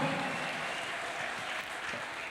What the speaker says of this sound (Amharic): ለኢየሱስ እስቲ ከዚህ በላይ እልልታችሁን ጭብጨባችሁን ይገባዋል